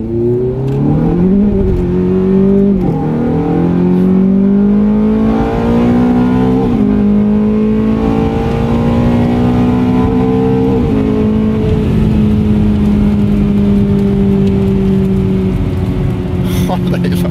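A Ferrari 430 engine revs hard and accelerates on a test drive, its loud, rising note broken by several quick gear shifts, with people talking in the car over the engine.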